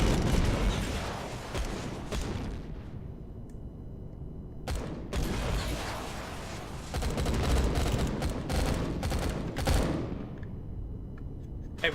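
Turret gunfire from a starfighter in a video game battle, dense continuous blasting and rumbling explosions with sharp bursts throughout, heard without any talk.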